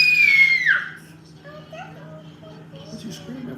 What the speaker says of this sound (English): What you screaming for